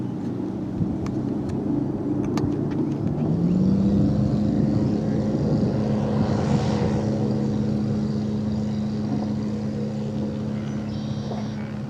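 An Aeroprop-powered light aircraft on the water throttles up from a steady idle into a loud, rising propeller drone that holds strong and even, close by, with no talk over it.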